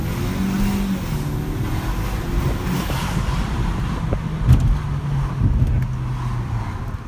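A 2014 Kia Optima SX turbo fitted with an aftermarket intake accelerates from first into second gear. The engine note climbs in pitch, drops at the shift, then climbs again, with steady wind and road noise underneath.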